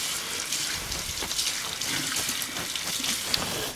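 Water from a kitchen tap runs steadily as a glove is rinsed off under it, a close, even splashing rush lasting the whole moment with no talking.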